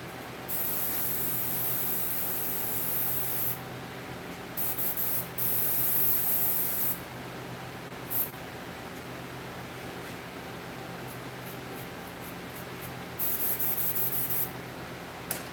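An airbrush fed by an air compressor sprays paint onto a mask, a loud steady hiss in long bursts with short pauses, no voices.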